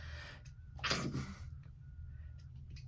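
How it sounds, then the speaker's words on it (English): A single sharp sneeze bursts out near the middle, close and fairly loud, over a low steady background hum. "See, I'm sneezing"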